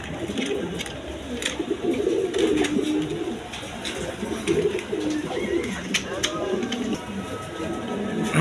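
Silver pigeons coo in a cluster nearby, soft throaty rolling calls repeating and overlapping steadily, with a voice speaking intermittently over them.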